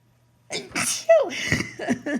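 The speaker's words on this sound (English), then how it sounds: "I couldn't help that sneeze." A single sharp sneeze after a brief silence, followed by a short burst of vocal sound tapering off.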